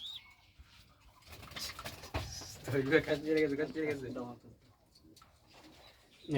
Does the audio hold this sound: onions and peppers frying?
no